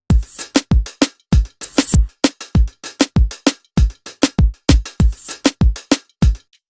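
Complete Afrobeat drum pattern with punchy kicks, snappy hits and bright hi-hat-style loop percussion in a steady bouncing groove, loud and up front with no voices.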